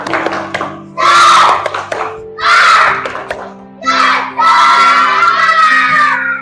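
Children in a classroom shout the rhythmic 'tepuk semangat' clapping chant in unison, four loud group bursts of chanting and clapping separated by short gaps, with a background tone sounding throughout.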